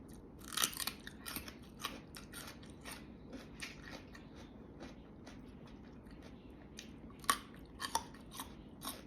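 Crunchy chewing of crispy pork crackling eaten with fresh salmon papaya salad: close, repeated crackling bites and crisp crunches in uneven bursts, fairly quiet, with no talking.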